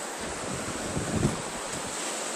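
Caribbean Sea waves after a storm on a Barbados beach, a steady wash of surf with one louder breaking swell in the middle, mixed with wind buffeting the microphone.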